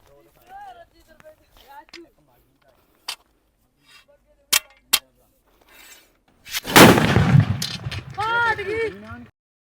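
Several sharp, loud blasts from a potash gun firing Diwali firecrackers ring out one after another amid scattered chatter, followed by a burst of excited overlapping shouting and laughter.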